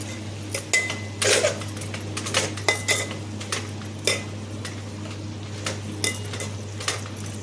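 Metal utensils clink and scrape against a pot while a curry of alasanda beans (cowpeas) cooks, with irregular close taps and stirring over a steady low hum.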